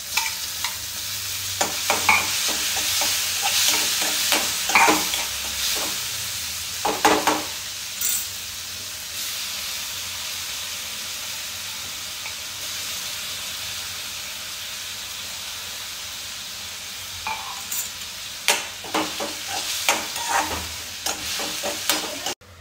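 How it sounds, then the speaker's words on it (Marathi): Chopped tomatoes frying and being stirred with cooked onion in a pan, a steady sizzle with scraping stir strokes clustered near the start and again toward the end, no talking. "कांदा शिजलेला आहे, टाकूया टोमॅटो."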